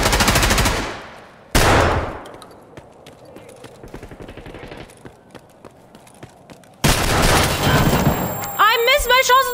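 Gunfire in the shooter game Escape from Tarkov Arena: loud bursts of automatic fire at the start and again near the end, with scattered single shots between and a brief tonal game sound at the very end.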